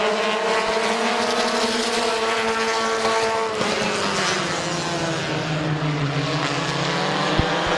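Race cars at Midvale Speedway run together around the oval, a loud continuous engine roar with layered pitches that shift as cars pass and accelerate out of a turn.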